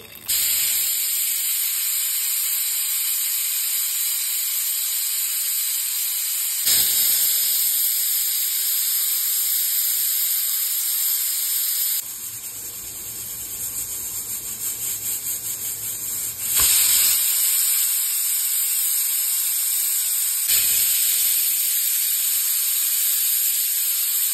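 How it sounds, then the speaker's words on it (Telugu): A pressure cooker on a stove with mango dal inside gives off a loud, continuous steam hiss, varying in strength across several long stretches and heard alone. "కుక్కర్ మూత పెట్టేసి ఒక 4 విజిల్స్ కొట్టించేద్దామండి"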